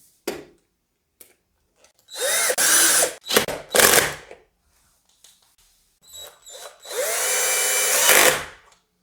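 A power tool drives a screw into a sliding door during a door roller replacement, sounding in three short whirring bursts of a few seconds each, separated by quiet pauses and small handling clicks.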